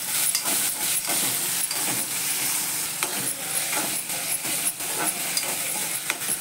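Tomato sizzles steadily in a hot tempering with curry leaves for a banana curry, a close, continuous frying hiss with soft stirring scrapes mixed in.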